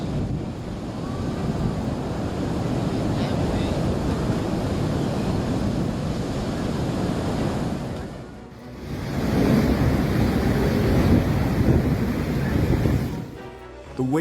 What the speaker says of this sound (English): The waves pounded, the water surged, as if nature was showing off its wildness.